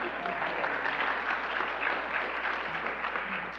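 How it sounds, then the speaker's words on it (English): Dense, sustained applause from an audience at a university thesis competition event, steady and even throughout with no talking over it. "To thunderous applause"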